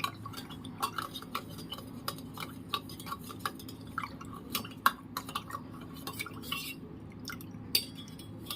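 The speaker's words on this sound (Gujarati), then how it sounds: "આ રીતના આપણે બધું મિક્સ કરી લઈશું" Spiced masala buttermilk being stirred and mixed in a bowl, with a spoon clinking and tapping against the sides in irregular bursts, close and fairly quiet, alongside a faint liquid swish.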